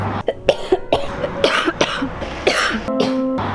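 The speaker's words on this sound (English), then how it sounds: "I've been coughing for like 2 to 3 weeks" A series of harsh, close coughs comes in quick bursts, several in a row with short breathy pauses between them.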